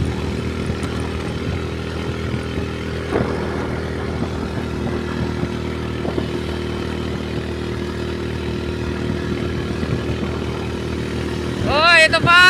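A motorcycle strains up a steep mountain road on the Daang Kalikasan route, barely holding 40. Its close, constant engine drone whines on without letup, and a voice breaks in at the very end.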